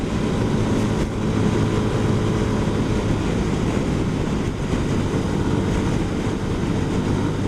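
A 2022 CF Moto 300 SR motorcycle cruising in fifth gear at about 55 mph, a dense steady roar of engine and wind noise that holds level throughout with no talking.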